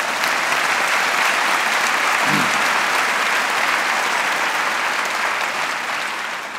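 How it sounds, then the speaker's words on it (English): Sustained applause from a graduate ceremony audience at the University of Michigan, broad dense clapping from a large crowd that holds steady and tapers slightly at the end. "That's worth a round of applause."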